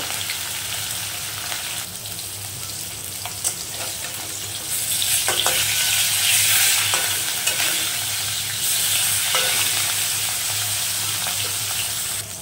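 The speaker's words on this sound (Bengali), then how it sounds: "তেলটা গরম হয়ে গেছে, এই মাছ ছেড়ে দিলাম। মাছটাকে সুন্দর করে ভেজে নেব।" Rohu fish pieces fry in hot oil in a kadai, a quiet crackle swelling into a loud, steady sizzle once the fish goes in, with occasional stirring.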